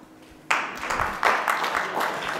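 A conference audience bursts into applause to vote on a question, clapping starting abruptly after a quiet moment and continuing as a dense, steady round from many hands.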